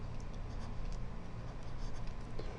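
Pen or marker writing numbers on a surface for a synthetic division problem, a steady soft scratching texture running the whole time with faint ticks, no voices.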